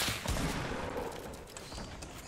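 Gunfire in a shooter video game comes as a dense, fast burst of overlapping shots that crackles loudly at first and then continues as a sustained rattle.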